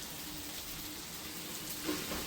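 Soft, steady sizzling of pangas fish frying in hot oil on banana leaf, quiet and continuous with a faint crackle near the end.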